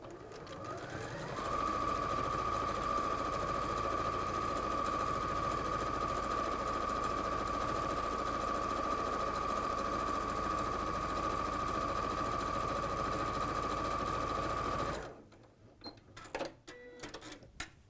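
A sewing machine stitches quilt pieces right sides together, a steady fast whirring drone running close and unbroken for about fifteen seconds before stopping, followed by a few light handling clicks.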